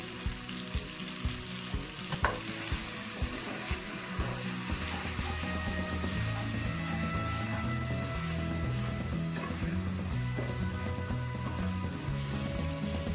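Ground cumin, coriander and salt frying in a pan with a splash of water for palak paneer, giving a dense continuous sizzle and bubbling hiss with occasional stirring clatter, close and steady, no talking.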